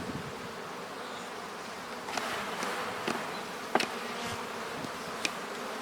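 Honeybees buzzing steadily as they are shaken off a hive frame during a disease inspection, a continuous close drone with a few sharp knocks and thumps from the frame.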